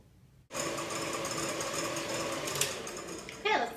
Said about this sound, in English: so get your egg whites in the mixer. Start them whisking.